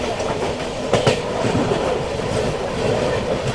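The Golden Temple Mail passenger train runs steadily on the rails, with a loud continuous rumble and faint clickety-clack of wheels heard from inside a sleeper coach.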